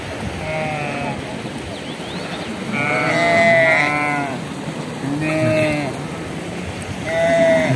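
Purebred sheep on a farm bleat repeatedly, several loud overlapping calls near and far, with steady farmyard background noise between them.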